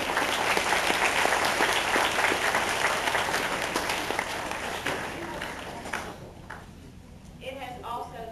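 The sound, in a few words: applause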